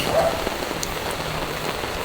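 Steady rain falls in Amadeo with a constant hiss and patter of drops on surfaces, close and fairly loud, with no voices.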